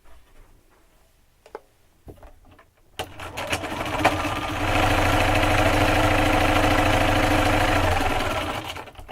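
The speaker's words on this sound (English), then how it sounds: "I'm going to sew the rest of these up." A sewing machine stitches pink quilt fabric strips sewn right sides together for a quilt block, starting with a few faint clicks and then running in a steady, loud, whirring drone.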